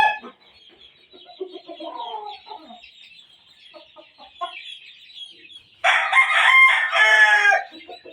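Street-breed gamecock roosters crow, one call close and loud near the end, with softer clucks and more distant crowing earlier, no talk.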